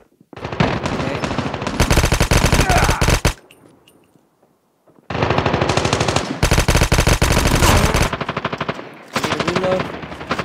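Sustained automatic bursts from an AK-117 rifle in Call of Duty rattle loud and close, two long strings of rapid shots separated by a short quiet gap, with a brief final burst at the end.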